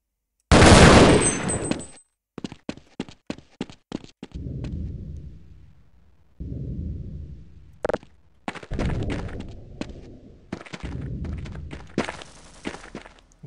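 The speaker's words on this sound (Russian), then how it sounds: "Слышу выстрелы какие-то." Sharp bursts of gunfire in the video game Half-Life crack out in a loud volley, followed by scattered single shots and rapid clusters with thuds and rumbling between them.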